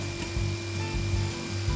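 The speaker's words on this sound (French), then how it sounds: "J'enlève d'abord le plus gros à la scie sauteuse." A jigsaw roughs out wooden drawer handles following a template, buzzing steadily at close range with a rhythmic rasp as the blade strokes through the wood.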